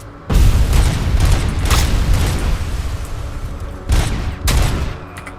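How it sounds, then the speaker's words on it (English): RoboCop's pistol fires in the video game RoboCop Rogue City: loud, booming bursts of rapid shots in two bouts, a long volley followed by a pause and then a shorter pair of bursts, with heavy low-end thump. "Let's try RoboCop's pistol for a bit then."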